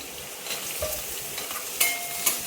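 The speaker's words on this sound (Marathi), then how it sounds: "आणि आपण कांदा परतून घेऊ." Onion sautéing in a pan with hing and turmeric, a soft continuous sizzle with a couple of brief spatula scrapes, close and moderate.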